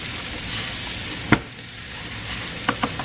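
Partly cooked food sizzling steadily in a hot pan as it is stirred, with a few clacks of the utensil against the pan over the constant frying hiss.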